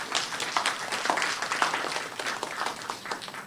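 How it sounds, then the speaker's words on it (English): Audience applause at an evening forum on Philippine elections as the ambassador joins, a moderately distant, even wash of many hands clapping that holds steady throughout with no voices over it. "A round of applause for the Ambassador."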